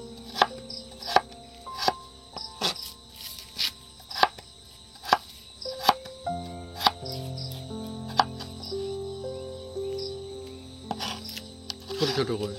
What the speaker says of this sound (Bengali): আলুগুলো একদম আমি কিভাবে কাটছি আপনারা দেখুন